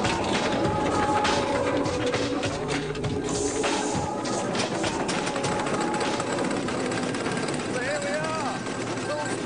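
An old farm machine's engine chugs and rumbles steadily throughout, loud and close, with mechanical clatter and a brief whine near the end.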